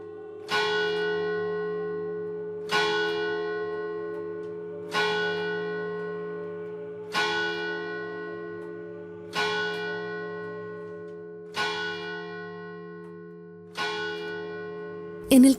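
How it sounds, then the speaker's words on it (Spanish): A church bell tolls in colonial Quito. Seven resonant strikes come at an even, unhurried pace, each one ringing out and slowly decaying before the next. "donde las campanas de las iglesias resonaban como ecos constantes de fe y penitencia"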